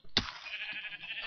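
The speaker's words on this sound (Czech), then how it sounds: "Tady si zabiju takhle další ovečku na postýlku." A single Minecraft sheep bleats in the video game, with a sharp onset and a short sustained tone. It sounds close and stands alone without speech.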